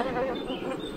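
Honeybees at a beehive during a honey super check: a dense, continuous buzzing hum from many insects, steady and close, with no clear talking.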